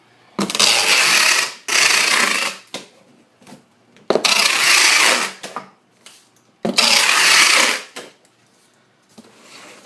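Packing tape is pulled off a roll and pressed onto a shipping package in three long, loud ripping strips, each followed by shorter crinkles and smoothing sounds, with brief quiet gaps between.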